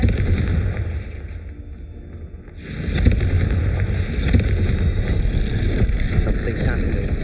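A Confringo blasting spell goes off in the Hogwarts Legacy video game: a sudden loud blast partway through, followed by a sustained roaring, crackling rumble that keeps going to the end.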